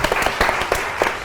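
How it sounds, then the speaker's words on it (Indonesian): Studio audience applause at an Indonesian televised quiz show, a dense burst of many hands clapping for the two contestants, loud and close, filling the short moment without talk. "Ya, tepuk tangan untuk kedua peserta."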